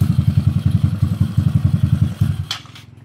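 A Yamaha Mio scooter with a 218cc four-valve engine build idles during break-in in a garage, a steady fast thumping putter up close that drops away toward the end with a brief clank.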